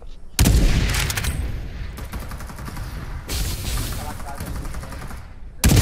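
Loud bursts of rapid automatic gunfire in the game Farlight 84, nearly continuous with brief gaps, with voices talking over the shooting.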